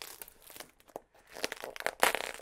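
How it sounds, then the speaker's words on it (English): Mail package being torn open for a Nerf Christmas unboxing, close crinkling and tearing of packaging in bursts, with a louder rip near the end. "Let's just start ripping it open now."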